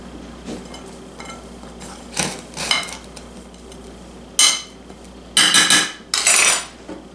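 Utensil clinks and scrapes against a bowl while minced garlic, salt and pepper are mixed for cabbage rolls, with scattered taps rising into several loud, rapid stirring bursts near the end.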